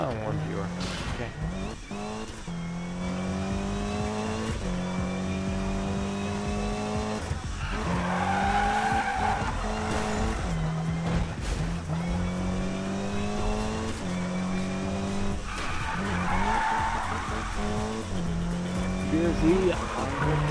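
Tires squeal in long sustained screeches as a Subaru BRZ drifts in Need for Speed, engine revving and rising in pitch through repeated slides, with a voice talking over the loud, continuous racing noise.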